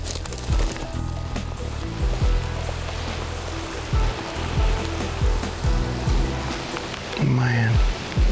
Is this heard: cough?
no